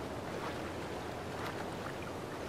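A waterfall in The Legend of Zelda: Breath of the Wild, a steady, dense broadband rush of falling water that holds evenly throughout with no breaks.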